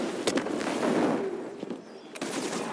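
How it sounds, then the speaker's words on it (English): Explosions and gunfire from the video game Destiny, a burst of sharp blasts and crackling rapid bangs over a few seconds, punctuated by distinct hits. "So many explosions."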